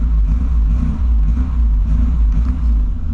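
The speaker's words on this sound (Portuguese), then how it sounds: "Tá batendo direitinho o motor." A square-body Volkswagen Voyage engine idles steadily, a loud, close, even low rumble that runs throughout with no speech.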